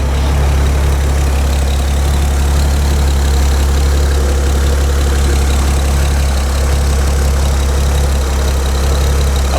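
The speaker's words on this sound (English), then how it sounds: "the engine seems to be running fine" A truck engine idles steadily and loudly with a constant low rumble after a fuel system check, running alone without speech.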